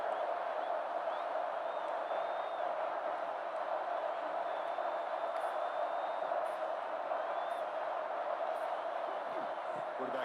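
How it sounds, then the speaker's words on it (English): A large football stadium crowd at a Texas vs Ohio State game roars in a steady, dense wash of cheering, distant and continuous for the whole stretch, with faint whistles rising above it. "Listen to the crowd energy here in the early going"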